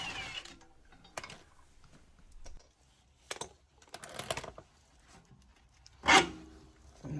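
A power gun winds out a rear suspension bolt on a BMW 1 Series E82 coupe, giving short whirring bursts separated by pauses, with one louder burst near the end.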